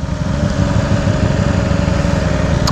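A sport motorcycle engine settling to a steady idle, one of an S1000RR, Ducati V4S or Yamaha R1M set in race mode, a continuous loud low rumble with an even throb and no talking.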